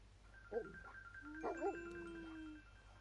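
A dog in The Little Acre video game lets out a few barks and yelps over a steady hum of game music, faint and close together in two small bursts.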